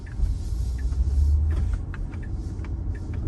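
A Tesla on Full Self-Driving 11.3.6 pulls away from a four-way stop in Redondo Beach, with a low cabin rumble swelling briefly as it moves off, plus faint small clicks inside the car.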